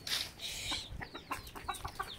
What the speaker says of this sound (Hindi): मुर्गियों को सारी इकट्ठी मिलकर बैठी हुई हैं।